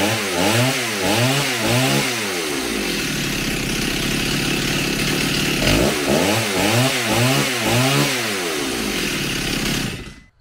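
A rebuilt Stihl 028 AV chainsaw runs loud and close, its engine revving up and dropping back to idle in repeated waves before cutting off at the end.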